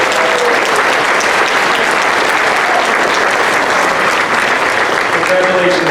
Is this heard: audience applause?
yes